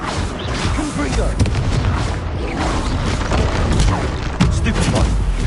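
Confringo blasting spells burst repeatedly in Hogwarts Legacy combat, a dense run of booming blasts and crackling impacts amid busy battle noise, with voices heard throughout.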